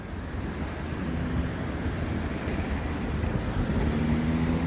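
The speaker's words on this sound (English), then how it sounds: "Wind is increasing." Steady outdoor wind buffeting the microphone in open air, a continuous broadband rush that swells slightly and holds for the whole stretch, with no voices.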